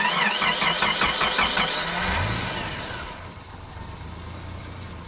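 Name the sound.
car engine starter cranking and engine starting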